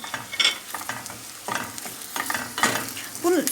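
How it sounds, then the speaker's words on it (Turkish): Onions and peppers sauté in a pan while being stirred continuously for tomato bulgur pilaf, with a soft sizzle under repeated scraping strokes of a spoon, close and moderately loud. "Sürekli karıştırmak lazım yanmasın için, yanmaması için sürekli karıştırıyorum."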